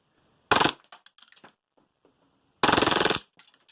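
An Action Army AAP-01 airsoft pistol firing on full auto, two short loud rattling bursts separated by a pause, close up, followed by small mechanical clicks and rattles.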